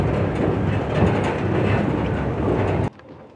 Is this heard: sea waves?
no